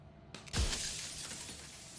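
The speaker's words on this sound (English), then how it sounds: "Another crack forms, and another, turning the mirror into jagged shards of broken glass." A mirror cracks and then bursts into jagged glass shards in the Slay the Princess video game, a sharp, loud shatter followed by a sustained spray of tinkling debris.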